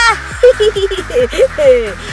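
A rapid series of nasal duck quacks, close and loud, in a quick uneven rhythm, at a duck racing event (Pacu Itik) in Payakumbuh, West Sumatra.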